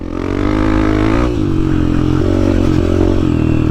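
A motocross motorcycle on a dirt track roars loud and close, the engine note dipping briefly then climbing again as it accelerates, with rattling clatter underneath.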